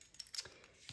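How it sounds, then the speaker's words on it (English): Scissors snipping through card stock during papercraft card making, a few quick, faint close-up cuts in a quiet room. "I am going to use scissors just because I want to make sure that I get a good adhesion there."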